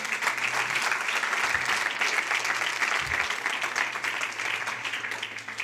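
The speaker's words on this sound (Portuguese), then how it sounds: "Você pode aplaudir mais forte se for para Ele." A church congregation applauds loudly and steadily, dense crowd clapping filling the whole stretch with only slight dips, close and sustained.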